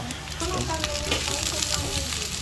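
Carrots and cabbage sizzle steadily in a hot pan with kikiam, a dense, continuous frying hiss with soft crackles close by, while faint voices murmur underneath.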